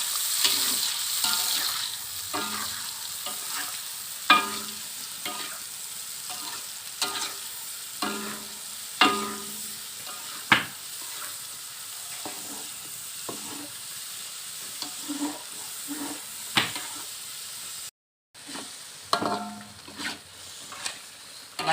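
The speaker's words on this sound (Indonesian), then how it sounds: "lalu kita tumis." A blended spice paste for beef rendang sautés in a pan with a steady soft sizzle, broken by repeated scraping and clinking stirs of a utensil at close range and by one brief dropout.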